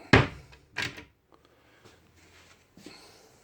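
Cupboard doors opening and shutting in the kitchen of a camper van under construction, heard as two sharp close knocks early on, then softer light clatters and a final small bump.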